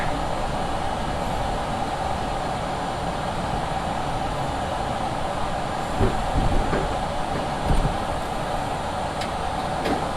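Rockaway-bound NYC subway A train running on the Far Rockaway line, a steady interior rumble and roar at moderate level with a few louder thumps and rattles toward the end.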